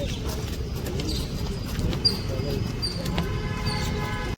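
Pigeons at Mysore palace coo softly amid background bustle and occasional chirps, with people talking nearby.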